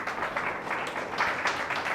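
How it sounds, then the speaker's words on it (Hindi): A church congregation at a Mumbai worship service claps loudly in thanks, making a dense, steady wash of hand claps for two seconds with no one speaking over it. "आइए जोरदार ताली से उस खुदावन यीशु मसीह को धन्यवाद करें।"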